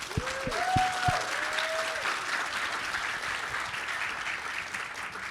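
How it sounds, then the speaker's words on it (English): An audience at the Tesla Takeover 2023 event applauds the exhibitors, a sustained wash of clapping from a crowd. Brief tonal whistles sound early on, and the applause stays steady throughout. "Give them a round of applause."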